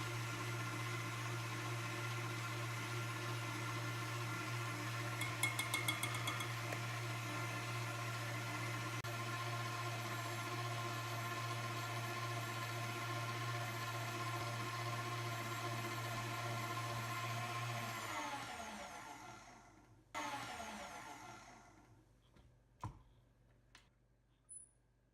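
An electric mixer whips cream for no-churn cookies and cream ice cream, a steady motor whine that runs evenly and then winds down near the end, followed by a few light knocks.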